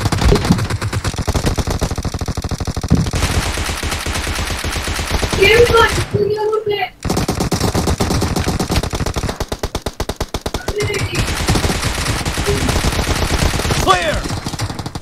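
Loud, rapid automatic gunfire from a shooting video game: dense bursts of shots that continue almost without a break, cut by a brief pause near the middle before the firing resumes.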